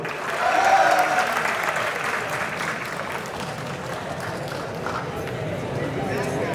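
Audience clapping at a college cultural fest, a sustained burst of many hands that peaks early and then holds steady, with talk and crowd noise running underneath.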